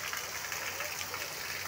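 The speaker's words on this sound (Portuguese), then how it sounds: "Caruaru, 17 de abril, chuva com força" Heavy rain falling in Caruaru, a dense continuous hiss of downpour, steady and fairly faint, with no other sounds standing out.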